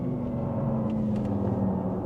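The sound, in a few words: Porsche Taycan Turbo GT electric car driving slalom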